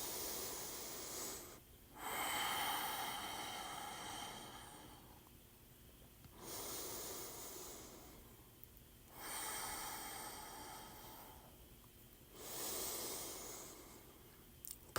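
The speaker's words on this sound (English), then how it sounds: "Let's take 3 breaths here." Slow, deep breaths taken standing tall during a somatic meditation session, three long airy inhale-exhale cycles spaced a few seconds apart, close and soft with no talking.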